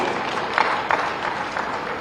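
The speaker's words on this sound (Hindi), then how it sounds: "आप सभी की जोरदार तालियां अपेक्षित हैं।" Applause from an audience at a Uttar Pradesh Day state celebration in Lucknow, a dense steady wash of clapping heard throughout with a few sharper claps standing out, moderately loud and fairly even.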